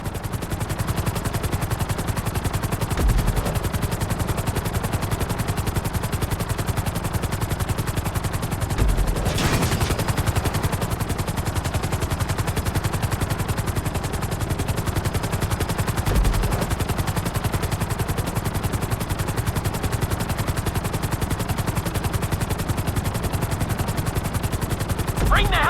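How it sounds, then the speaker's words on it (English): A helicopter in GTA V flies toward a helipad with a continuous loud rotor chop and engine drone, a rapid, even beating throughout. Brief sharper bursts cut in now and then, and a voice talks over it. "Bring the helicopter down gently onto the helipad."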